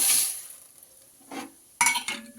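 Dried red chilies and moong dal are stirred and sautéed in a hot pan, with a soft sizzle and a few scraping stirs of a utensil against the metal, close and without talk.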